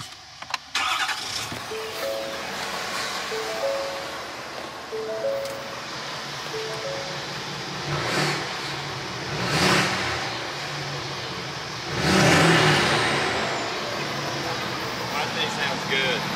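A vehicle engine starts up and revs in a few loud bursts outdoors on a weekend hunting road trip in Venice, Louisiana, with voices talking nearby throughout.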